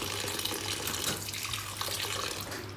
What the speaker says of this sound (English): And then I'll pour the second water.